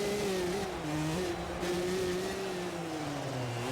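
Two-stroke motocross bike engine in MX vs ATV Legends supercross racing, a steady high-pitched buzzing drone with wavering pitch as the throttle rises and dips, loud and continuous throughout with no talk.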